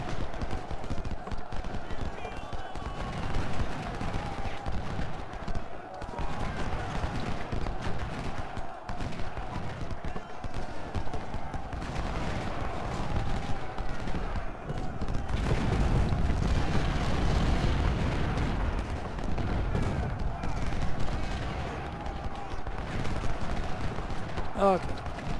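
Musket and cannon fire from the Ultimate General: Civil War strategy game, at the Everettsville battle, crackles steadily as dense, continuous volleys with low rumbling booms and swells louder partway through, while someone talks over it.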